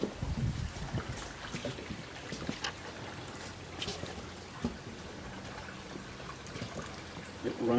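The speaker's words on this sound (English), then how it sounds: "It runs year-round, so there's always water in it, there's always sound in it." Year-round garden creek flowing, a soft steady trickle and gurgle of water heard close by, with faint handling noise and light wind over it and no talk.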